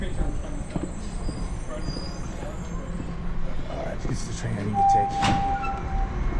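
A Toronto Line 1 subway train rolls in amid a noisy station, its wheels letting out a brief high squeal near the end over a low rumble.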